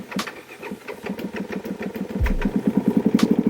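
A motorcycle engine on an adventure ride, idling roughly and then firing into a loud, close, pulsing rhythm that grows steadier toward the end, with no talking over it.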